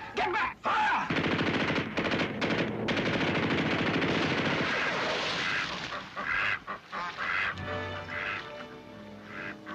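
Soldiers fire guns in combat: dense, rapid bursts of machine-gun fire run loud and continuous for several seconds, then break into scattered shots as someone shouts.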